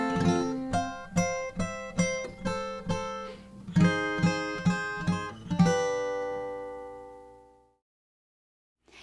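An acoustic guitar picks out a song from Pixar's Coco, close plucked notes in an even rhythm, then a final held chord rings out and fades to silence.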